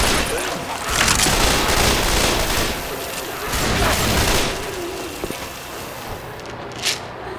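Repeated shotgun blasts from a video game set during a hurricane, loud bursts over a constant roaring storm-like background, with brief speech-like bits.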